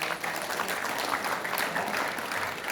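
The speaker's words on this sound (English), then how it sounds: "Can we have a big round of applause?" An audience at a farmers' event claps in a dense, steady round of applause, moderately loud and continuous throughout, with no talking.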